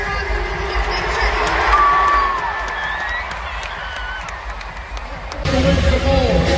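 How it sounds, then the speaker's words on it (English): Rodeo crowd at Rodeo Houston cheering and clapping in a large arena, a broad, steady roar with voices mixed in that swells louder near the end. "Let's cheer on him when he gets that check."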